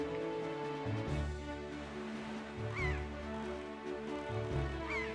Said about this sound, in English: The seagulls are just following me.